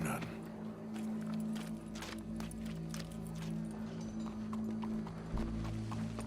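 Horse hooves clip-clop in a steady rhythm under a low hum in Red Dead Redemption 2, with a voice speaking briefly over the sound.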